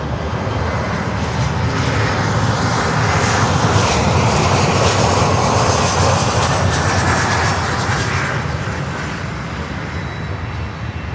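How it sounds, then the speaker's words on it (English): Embraer 175 jet airliner arriving at Miami airport, a loud, broad engine roar that swells and fades slowly as it passes close by, with no talk over it. "Our next inbound is an Embraer 175 from Tallahassee."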